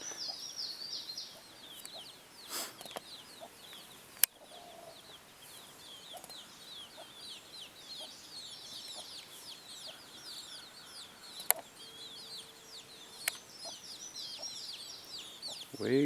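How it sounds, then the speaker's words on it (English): Chickens cluck softly and steadily nearby, with scattered higher calls and a few sharp clicks over a quiet outdoor background. "one of my favorite parts of raising chickens"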